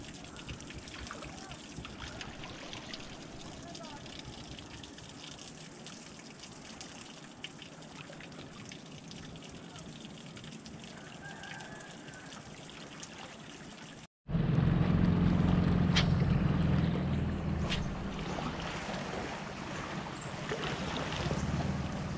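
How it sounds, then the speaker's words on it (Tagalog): A boat passes near a mangrove fishing spot, its engine rumble suddenly surging loud and close after a stretch of quiet water and wind noise, then lingering. "Teka, tinadaanan ng bangka"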